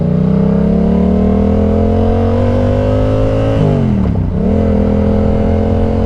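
A motorcycle fitted with a quick shifter accelerates hard, its loud, close engine note climbing steadily, dipping briefly at a gear change, then rising again without pause and with no talk.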